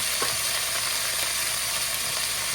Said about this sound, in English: I'm going to drop some fresh garlic in there